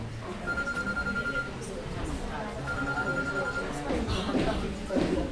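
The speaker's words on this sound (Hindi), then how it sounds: "किसका फोन है?" A phone rings in a classroom during a history lesson, two short bursts of steady electronic tone over a murmur of students and a teacher's voice.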